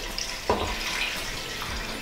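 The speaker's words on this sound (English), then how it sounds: "we finish off by adding a big jug of water to cover the chicken completely" Water is poured from a big jug into a pot of raw chicken to cover it completely for poaching, making a steady splashing, gurgling stream at moderate level, with a brief louder slosh partway through.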